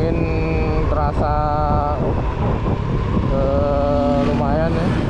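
Strong wind buffeting the microphone while riding along a downhill rural village road near Pangkalpinang, Bangka Belitung, a steady rushing roar with a vehicle engine hum and tonal whines, alone without talk.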